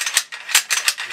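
A magazine is released and drops from a BM59 rifle: a quick run of close metallic clicks and rattles, sharp and mechanical, over about a second.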